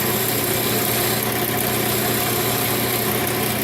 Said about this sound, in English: I run it sideways into it to cut a nice, crisp line